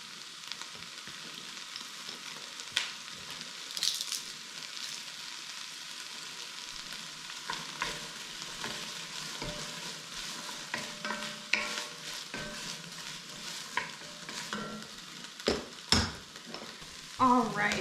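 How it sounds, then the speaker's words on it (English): Garlic, onions and peppers sauté in a home kitchen pan, giving a soft continuous sizzle with scattered scraping stir strokes and clicks, moderately near, with no talking. "now that we've got the onions and peppers working, getting sauteed pretty good"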